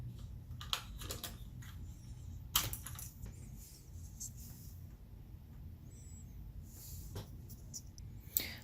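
Soft, muffled keystrokes tap irregularly on a keyboard fitted with rubber stoppers on the keys, faint clicks scattered over a low steady background hum with occasional sharper hits.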